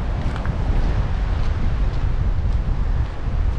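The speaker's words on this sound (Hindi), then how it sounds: "इतनी मतलब ठंडी ठंडी हवा चल रही है" Cold wind blows through Gabral Valley in Swat, Pakistan, a constant low rumbling buffet against the microphone with no speech over it.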